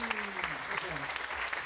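A circus audience applauds a performer named Hans with rapid, dense clapping. Voices talk under the clapping throughout, and the whole burst sounds fairly quiet.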